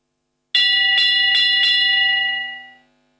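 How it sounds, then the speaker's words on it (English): A bell rings at a show-jumping grand prix arena, signalling the rider to start: four quick metallic strikes, close and clear, with a ringing tone that fades out afterwards. "the bell sounds for our rider to go"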